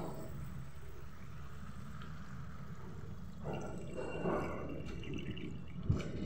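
Hot water is poured into a cooking pot of mutton and potato curry, making a faint, soft splashing and trickling that builds slightly toward the end, with a small clink near the finish.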